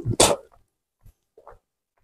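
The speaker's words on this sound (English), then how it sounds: "Big sneeze." A single sharp human sneeze, close and loud at the start, followed by a couple of faint small sounds and near silence.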